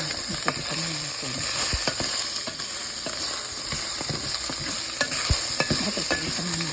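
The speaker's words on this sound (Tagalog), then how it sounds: "Ayan yung chicken natin guys. Ipagpan natin." Chicken pan-fried with garlic, ginger and onion for a soup, a continuous sizzle broken by frequent clanks and scrapes of a spatula against the pan, close and fairly loud.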